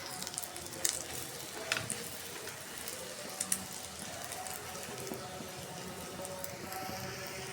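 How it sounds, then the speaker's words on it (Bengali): Egg frying in a pan at home, a soft steady sizzle with faint crackles and pops spread through the whole stretch, quiet and close, with no talking. "এই যে এখন ডিমটা ভাজি করে নেব, ছেলের জন্য স্পেশালভাবে ডিম ভাজি করতেছি"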